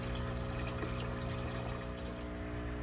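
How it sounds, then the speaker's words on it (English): Water running steadily from a fish tank valve into a bucket, a faint, continuous pouring trickle with no talk. "I am just filling up a bucket with some water"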